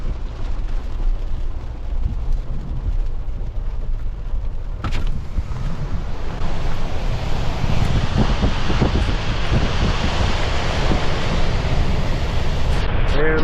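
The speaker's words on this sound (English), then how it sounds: "look at all that water getting released right now" A torrent of water is released from the Lake Texoma dam during flooding, producing a loud, continuous roaring rush with wind buffeting the microphone, while someone talks excitedly over it.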